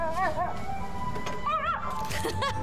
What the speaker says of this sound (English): Space puppies. Like space slug puppies.